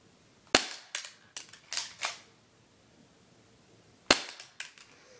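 Pistol shots crack loud and sharp at close range. A cluster of reports with echoing tails is followed by a pause, then another sharp shot and a few smaller impacts.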